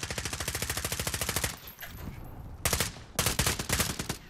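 Rapid automatic fire from an SA-87 light machine gun in the video game Call of Duty Warzone, long evenly spaced bursts of close, punchy shots with brief pauses between them, and no talking.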